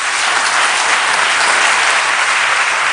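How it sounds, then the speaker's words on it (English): Loud, dense applause fills a parliament chamber after the Catalan independence declaration, a steady unbroken roar of many hands clapping close and continuous throughout. "the applause stopped"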